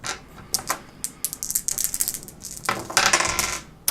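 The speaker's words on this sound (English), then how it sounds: "he's going to roll his 5, 6 dice first" Handful of dice rolling during a board game, rapid clattering taps on a hard surface in two bursts, close and crisp with no talk.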